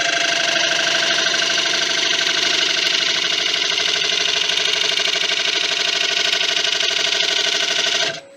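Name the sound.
wood lathe turning an oak bowl with a negative rake scraper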